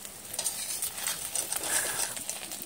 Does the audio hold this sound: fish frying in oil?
yes